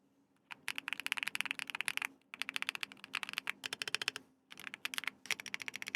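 Rapid clacky keystrokes come from a homemade custom computer keyboard, typed in three quick bursts separated by short pauses, crisp and close.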